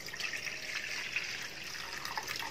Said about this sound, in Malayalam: എടുത്തു വെച്ചിട്ടുള്ള വെള്ളം ചേർത്ത് കൊടുക്കുക